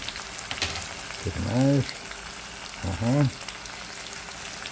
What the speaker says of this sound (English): And the butter is glazing all the veggies.